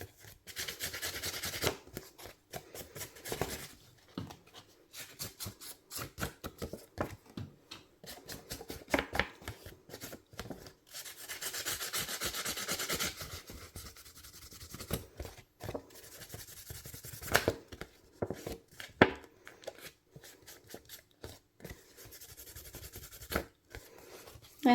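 Edges of a paper card being distressed for a shabby chic vintage birthday card, with continuous dry scraping and rubbing strokes, close and steady for the whole stretch with brief pauses.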